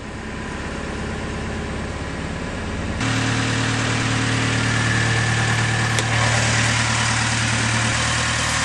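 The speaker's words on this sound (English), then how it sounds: "now we'll start the engine" A Colvic Watson motor sailer's inboard engine cranks, catches with a jump in level, then settles into a loud, steady idle with a low throbbing hum, heard close with no voices.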